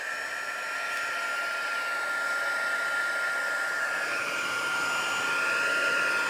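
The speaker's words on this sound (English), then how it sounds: "and then I've got a heat gun. I apologize for the noise." A heat gun blows steadily to melt embossing powder in a paper-crafting stamping setup, giving a continuous, close, airy whir with a high tonal whine that holds at an even level throughout.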